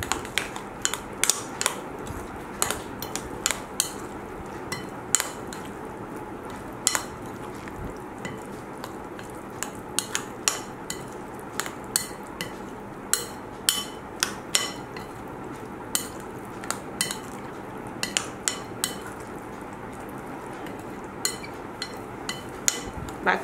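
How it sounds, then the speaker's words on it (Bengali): Ingredients worked together by hand with mustard oil in a bowl, giving soft wet squelches and small clicks against the bowl in a steady, irregular rhythm, close and fairly quiet with no talking. "এখন আমি সবগুলো উপকরণ ভালোভাবে মেখে নেব।"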